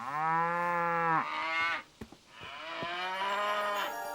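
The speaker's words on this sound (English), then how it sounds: "You can look after my cows." Cows moo in a long, loud, close call followed by a short pause with faint clicks, then a second drawn-out moo, with no talk.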